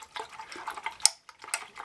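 Vegetable oil and soap being stirred into water for a homemade garden spray: soft swishing and sloshing with light clinks of the stirring utensil against the container, close and intimate.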